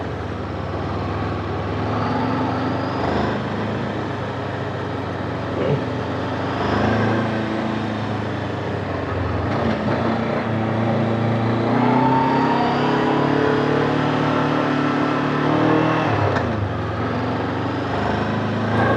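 Continuous motorcycle engine drone straining uphill under load, pitch rising and falling as it labors, steady road noise throughout, no speech.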